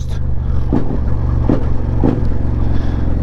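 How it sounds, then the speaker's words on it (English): A Suzuki SV650 motorcycle's loud aftermarket exhaust burbles loudly and steadily up close, with a few brief throttle blips rising out of the deep rumble. "With my loud ass exhaust."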